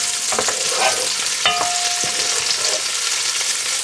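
Chopped onion being stirred into a gentle sauce base in a pan, a steady soft sizzle with a few scraping clicks of the spoon near the start and middle, close and alone with no talk.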